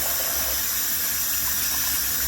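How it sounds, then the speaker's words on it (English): Hands are washed under a running kitchen sink tap, a steady close rush of water splashing for a couple of seconds. "Let me wash my hands again."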